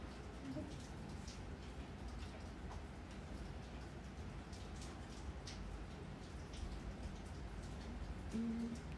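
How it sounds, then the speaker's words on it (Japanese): Soft, steady rain hisses quietly and continuously throughout, a faint even wash of drops used as an ASMR backdrop, with no clear voices. "音がしてるのは雨の音です"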